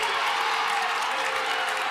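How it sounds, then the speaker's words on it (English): Fans at a girls' high school basketball game between Armuchee and Pepperell cheer and clap in a steady, dense crowd roar, loud and unbroken throughout. "And the Armuchee fans rejoice."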